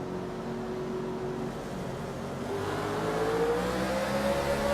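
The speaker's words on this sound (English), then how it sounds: "You could hear the car, the engine rev as the car went sideways." A Gen 6 stock car at Indy in the FPRL StormTV Cup Series races with its engine droning loudly and steadily, then revving higher as the tires spin and the car slides sideways.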